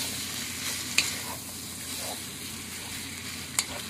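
Tomato frying in a pan for ranchero-style beef steak, a steady soft sizzle with a couple of sharp clinks of a utensil against the pan, no voices.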